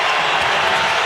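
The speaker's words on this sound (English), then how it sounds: "This crowd on their feet." A basketball arena crowd at a Raptors–Mavericks NBA game stands and cheers in a dense, loud, continuous roar with applause mixed in across the short moment.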